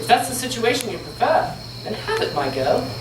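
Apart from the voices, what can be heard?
No everyday noise stands out behind the speech.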